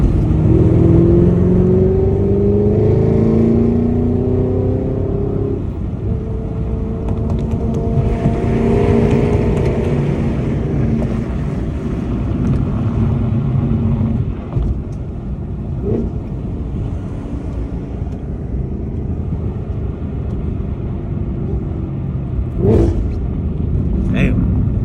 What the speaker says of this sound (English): Brutal ass downshifts.